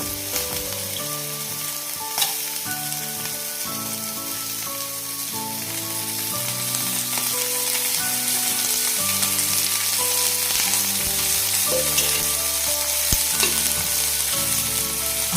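Vaam fish frying in oil in a pan, a steady loud sizzle that runs for the whole stretch with a tonal hum mixed in underneath.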